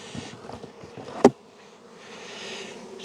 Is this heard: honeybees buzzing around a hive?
yes